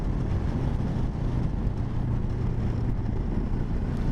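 A Benelli 702 TRK motorcycle climbs a hill in sixth gear at about 46 mph, giving a steady, loud engine drone with a low hum under heavy wind rush throughout.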